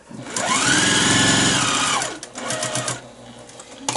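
A sewing machine stitches down the folded edge of a fabric mask in one steady, close, whirring run of about two seconds, followed by a shorter, quieter burst.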